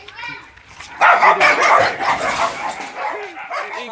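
A dog barks and yips close by, several sharp barks in a row, with some whimpering and background voices.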